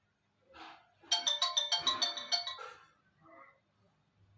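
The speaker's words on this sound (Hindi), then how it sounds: "बाली फातिमा फोन कर रही, फोन चुकाओ" A phone rings for an incoming call: a bright chiming ringtone pattern of about a dozen quick tonal pulses, close and clear, with brief faint voice murmurs before and after.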